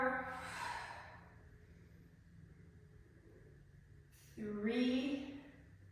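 Two forceful exhaled breaths during a yoga-style floor exercise on hands and knees, one at the start and a stronger, slightly voiced one near the end, with quiet room tone between.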